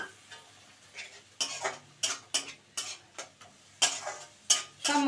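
A spatula scrapes and stirs coriander powder and spices in a frying pan with a little water, making about a dozen distinct, close, rhythmic scraping strokes over a soft sizzle, with no talking.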